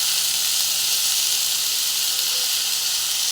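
Gima greens tipped into a hot pan and stirred, giving a steady, loud broadband hiss of steam and sizzle that holds evenly throughout with no talking.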